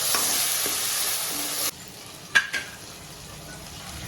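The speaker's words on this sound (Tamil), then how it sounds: "இது 3 தக்காளி, தக்காளி நல்லா வதக்கும்" Three tomatoes sauté in a hot pan for a mutton trotter curry: a loud, steady sizzle for about a second and a half, then a quieter hiss, with a couple of sharp stirring clinks and scrapes near the end.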